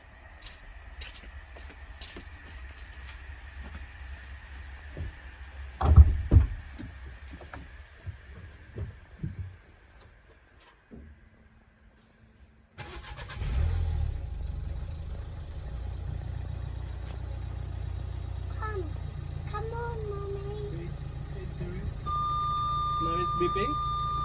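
Parking sensors on a 2015 Nissan Qashqai J11 give short electronic beeps over a car engine idling nearby, with someone speaking at times.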